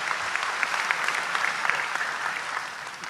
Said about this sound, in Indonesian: Tepuk tangan untuk beliau, enggak apa-apa.